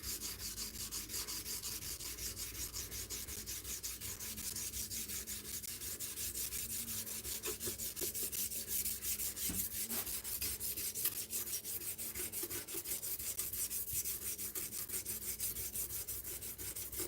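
A steel blade's full bevel is ground by hand on a sharpening stone, giving a steady, continuous rasping rub that runs evenly throughout at close range, with no voices.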